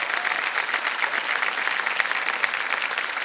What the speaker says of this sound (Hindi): तालियां बज जाने चाहिए क्योंकि चेक आ रहा है इनके नाम